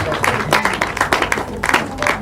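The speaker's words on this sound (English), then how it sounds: "you can clap if you want to clap" An audience applauding at a talk event, bursts of close, irregular clapping from a crowd that swell and fade over a couple of seconds.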